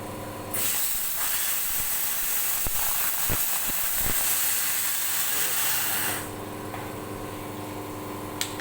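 A CNC plasma cutting machine hisses loudly and steadily for about six seconds while cutting, with faint thuds and knocks beneath, then drops back to a quieter background hum.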